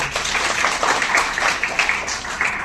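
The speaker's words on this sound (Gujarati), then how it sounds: "બધા પોતપોતાના માટે તાળી પાડી દઈએ." Students in an audience clap together for a few seconds, a dense, steady patter of hands that stays fairly even throughout.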